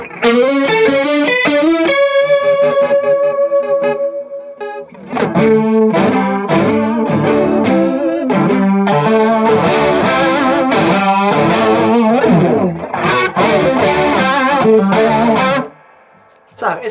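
Electric guitar played through a chorus effect, loud and close: ringing chords and picked melodic phrases with a shimmering, doubled wobble, a brief pause near the start and a short dip before the end, no talking.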